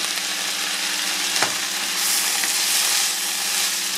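Carrot, zucchini and mushrooms sizzle and fry in a pan, a steady close hiss with a couple of brief stirring clatters and no talking.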